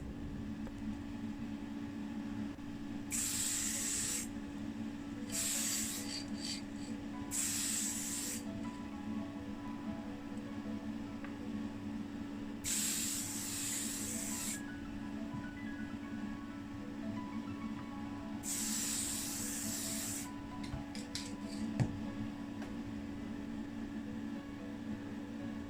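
Short bursts of spray paint on a Chevrolet Corvette bonnet being coated with paint and clear coat: five hissing passes of a few seconds each, close and fairly loud, over a steady low hum of background noise.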